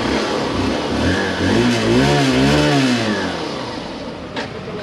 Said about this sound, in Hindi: तो बाइक का एग्जॉस्ट नोट सेम है,